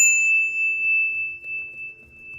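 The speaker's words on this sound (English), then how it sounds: "with the sound of the bell, may we cleanse" A ritual bell rung once to cleanse a space, a single clear metallic strike that rings out as a pure, sustained tone and decays slowly with a faint low hum beneath it.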